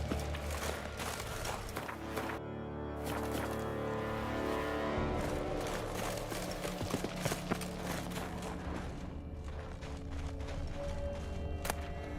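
Horse hooves clip-clop steadily in the video game Genshin Impact, a regular walking rhythm of knocks set against dense game music and ambient effects.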